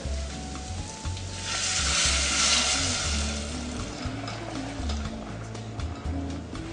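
Arborio rice and leek sizzle in a pan, then swell into a louder burst of hiss and bubbling as white wine is poured in to deglaze, before settling back to a steady simmering crackle.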